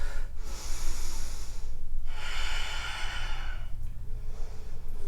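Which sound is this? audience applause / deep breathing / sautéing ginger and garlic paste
deep breathing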